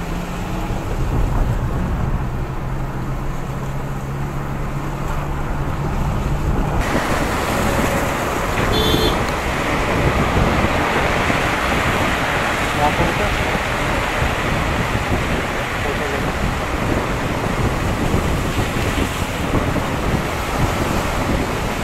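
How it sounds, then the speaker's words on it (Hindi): A powerful monsoon waterfall in the Uttarakhand mountains roars with dense, unbroken rushing water, loud and close throughout, mixed with heavy rain and wind buffeting. "ये वाला वाटरफॉल तो बहुत ही तगड़ा आ रखा है"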